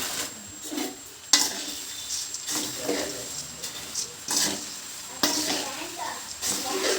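Thick fried puffed rice (borugulu) gets quickly tossed with spices in a pan, giving a string of scraping, rustling stirring strokes with brief loud clanks against the metal while a voice talks over them.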